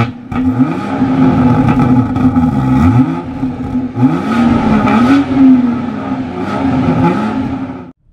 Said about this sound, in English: Oh, and the engine sounds incredible.